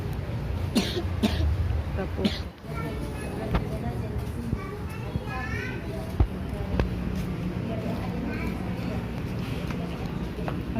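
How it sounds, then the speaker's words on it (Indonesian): A sick child coughing at the front of a hospital, several sharp coughs near the start under loud outdoor background noise and nearby talking. "Ini sakit batuk."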